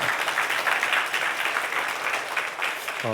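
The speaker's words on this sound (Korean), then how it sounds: "우리 박수 한번 하시죠" Brief burst of applause from a church congregation at a Sunday afternoon service, fairly close and even for about three seconds, with a voice starting to speak right at the end.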